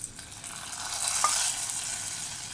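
A hot tempering of mustard seeds, curry leaves and coconut is poured into a Kerala curry, giving a brief crackling sizzle that swells and then settles into a steady frying hiss.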